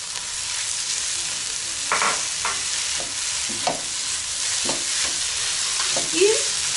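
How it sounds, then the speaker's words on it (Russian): Minced chicken fries without oil in a pan over high heat, a steady sizzle broken by repeated scraping strokes as it is stirred constantly. No one talks. "Очень важно жарить на большом огне, и тогда у нас не будет ничего прибирать, потому что мы жарим без масла."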